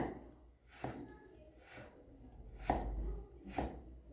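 A knife chops carrot into thin julienne strips on a cutting board, four sharp, separate, fairly quiet board strikes spaced about a second apart, with a faint low background hum.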